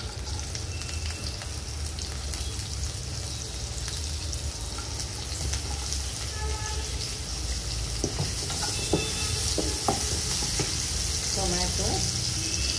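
Garlic and chopped onion fry in a pan for mutton dalcha, giving a steady close sizzle with scattered stirring scrapes and clicks toward the end, and faint talk underneath.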